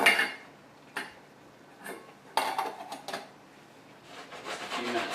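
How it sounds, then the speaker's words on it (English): Beef being returned to a pan for stroganoff: a few scattered clinks and scrapes of utensil against cookware, separated by quiet gaps, with a louder cluster of knocks near the middle and light rustling at the end. "we can go ahead and add our meat back to the pan"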